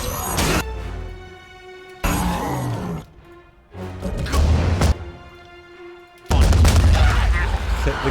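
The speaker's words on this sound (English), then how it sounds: "The concussive bolt on its just from its sound is pretty brutal." Heavy concussive bolt spell impacts from the fantasy game Tyranny, several deep booming thuds at about two, four and six seconds, loud and close, with game sound and a voice in between.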